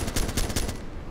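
Rapid gunfire in the military game Arma 2, a quick string of about four or five loud reports in under a second, then fading into a softer tail.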